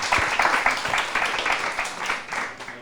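An audience claps at a book launch, sustained applause with dense overlapping hand claps at a moderate distance, a few voices faintly mixed in.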